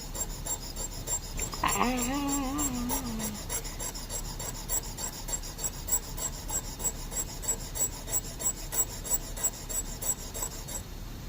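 Dental enamel hatchets and gingival margin trimmers are sharpened on a stone, a close, even rasping scrape repeated in a steady back-and-forth rhythm, with a brief tonal squeak near the start.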